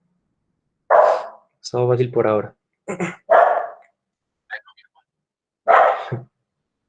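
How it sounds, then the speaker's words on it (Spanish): A dog barks several times nearby in short, sharp bursts, heard alone between pauses in a home setting while a person also speaks briefly. "Disculpan el perro."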